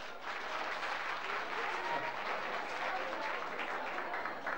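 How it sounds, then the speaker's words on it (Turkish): Steady applause from a crowd at a village association night event, a continuous wash of clapping heard from some distance and holding evenly for several seconds. "Alkış yok, alkış."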